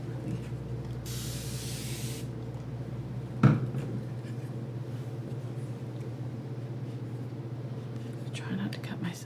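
A water spray bottle mists an acrylic paint palette in one short, loud hiss lasting about a second over a steady room hum, followed by a brief clack.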